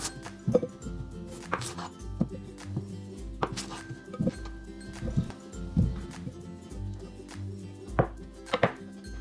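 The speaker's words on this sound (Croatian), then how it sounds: "Krompir najprije operite, zatim ogulite, a onda isjecite na komade." Knife chopping peeled, washed potatoes into pieces on a board, with a run of sharp, close, fairly loud cuts in an uneven rhythm and no talk.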